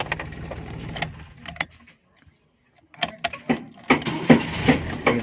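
A Suzuki Mehran with a slow-running fault is switched off and restarted: running and key jangling, then near silence for about a second, followed by the engine cranking and catching with uneven loud bursts, close by.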